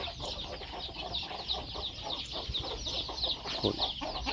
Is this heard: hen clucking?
yes